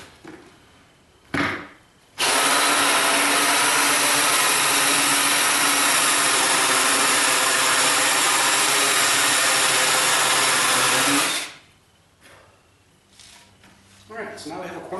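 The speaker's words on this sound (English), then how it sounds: "And I start drilling from the other side." A power drill bores through plywood for a corner shelf or desk unit, a loud steady whine running for about nine seconds after a brief start, then stopping and giving way to quieter handling noises.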